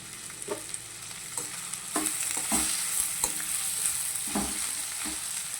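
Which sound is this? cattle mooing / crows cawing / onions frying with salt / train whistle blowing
onions frying with salt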